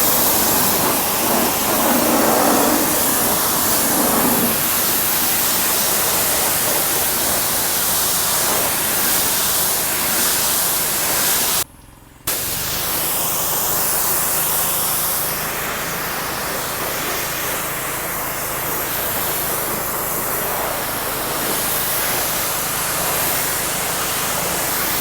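Steam cleaning and washing the dusty, dirt-covered interior of a Toyota RAV4 after a camping trip, a steady loud hiss and spray rushing for the whole stretch, broken by one brief cut near the middle.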